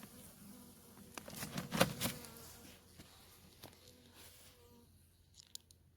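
Bees buzz faintly nearby, a soft fluctuating drone that swells briefly and then fades, with a few small clicks.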